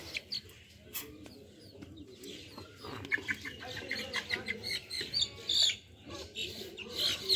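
Hens clucking in a backyard coop, scattered short clucks and calls from nearby birds rising and falling over a soft outdoor background.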